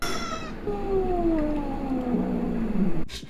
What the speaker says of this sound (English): My cat's here. I think she's in a heat cycle.